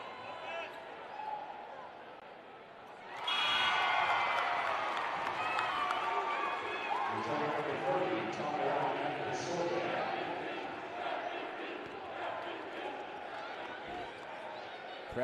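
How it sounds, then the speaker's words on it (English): A basketball Final Four crowd chants MVP during free throws. After a quiet few seconds, a loud, sustained wall of rhythmic crowd voices swells up and carries to the end, with faint court sounds beneath. "Crowd chanting MVP"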